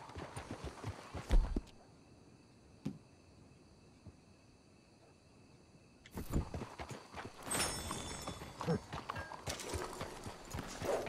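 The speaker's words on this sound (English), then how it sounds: "Let's hitch the horses up ahead." Horses' hooves in the game Red Dead Redemption II, a few clopping steps early on, a quiet gap with faint ambience, then a denser stretch of hoof falls and movement close by.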